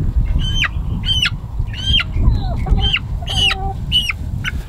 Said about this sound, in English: We have chickens at the Mullet Farm now.